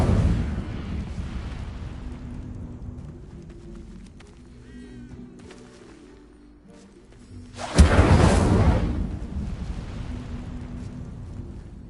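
An Incendio fire spell is cast in a video game: after a low rumbling stretch, a sudden loud whooshing burst erupts near the end and fades slowly.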